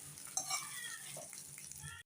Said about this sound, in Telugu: కొంచెం కలర్ మారేదాకా ఫ్రై చేసుకోవాలి.